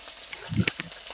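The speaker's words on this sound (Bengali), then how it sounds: "তো দেখো এখানে কয়েকটা ভেজে রেখেছি আর কয়েকটা ভাজছি।" Soft fish frying in oil in a home kitchen pan, a low quiet sizzle with a brief louder crackle burst near the middle.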